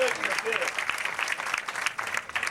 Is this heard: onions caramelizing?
no